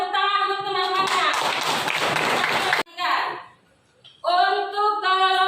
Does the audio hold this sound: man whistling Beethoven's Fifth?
no